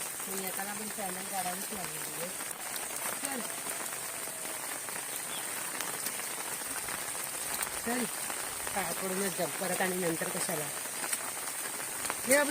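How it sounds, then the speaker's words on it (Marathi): Heavy rain falls steadily around a village temple, a constant hiss underneath people talking close by throughout. "पाऊस खूप आहे"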